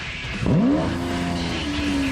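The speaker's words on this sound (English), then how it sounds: "At the heart of this monster beats a V12 700 horsepower engine" Lamborghini Aventador LP700-4 with a 700-horsepower V12 revving hard, a close, loud engine note rising sharply in pitch and then holding a steady high whine.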